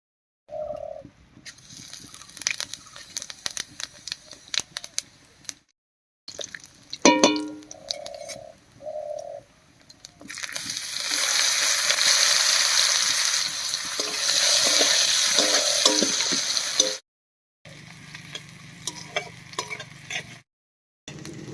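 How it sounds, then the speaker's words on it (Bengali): Whole cumin and chopped onion go into leftover oil from frying pangas fish. Scattered utensil clinks and stirring come first, then a loud, steady sizzle that holds for several seconds before cutting off, with short stirring bursts after. "এবারে মাছ ভাজার এই তেলের মধ্যেই ফোড়ন দেবো আর ফোড়ন দেব গোটা জিরা আর পেঁয়াজ কুচি দিয়ে"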